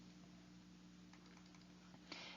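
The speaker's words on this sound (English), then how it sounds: "I'm going to type in root 2" Faint computer keyboard typing, a few soft scattered key clicks over a low steady electrical hum, with a brief louder clatter near the end.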